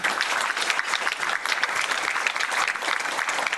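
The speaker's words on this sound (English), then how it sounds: "Please give a round of applause to my assistant, Sunny." An audience at a community awards ceremony applauds steadily, a dense, even patter of many hands clapping at moderate volume with no voices over it.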